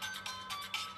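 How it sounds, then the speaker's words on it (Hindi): A mobile phone ringtone plays in a repeating melodic pattern, moderately loud and alone without talk. "मेरे आदमियों का फोन आया है।"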